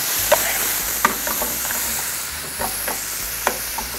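Chopped tomatoes sizzle in a hot pan while a spoon stirs them, with sharp scraping clicks at irregular intervals over a steady frying hiss.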